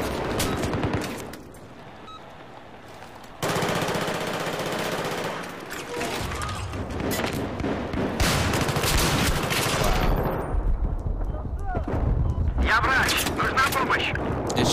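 Gunfire in Battlefield 3 as shells are fired: bursts of shots and rapid fusillades crackling through a busy battlefield, with people talking over much of the action.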